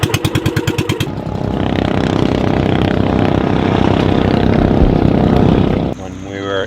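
A small 16-horsepower Honda boat engine runs steadily and loudly up close, with a dense continuous drone that follows a brief rhythmic chugging start and fades out near the end.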